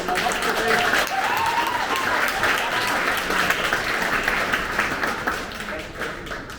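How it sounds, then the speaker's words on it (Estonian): An audience applauds at an orchestra concert, with dense, sustained clapping at a steady level and a voice briefly audible early on. "Egon, võib suure aplausi teha Egonile"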